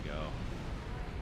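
Starship broadside weapons fire in Star Trek Online, a sustained rumbling barrage of blasts with a sweeping energy tone, loud and continuous with no pauses.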